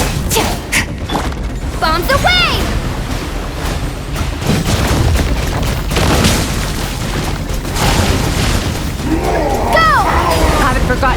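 Bombs explode in the Genshin Impact video game, a dense run of loud booms and crashes with constant impacts, under voice lines from characters.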